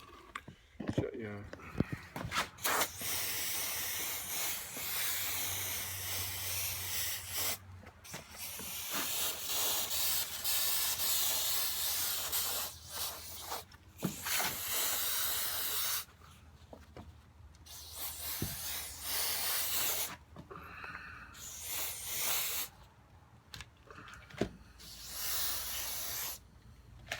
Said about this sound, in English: It's gonna spray the hell out of that.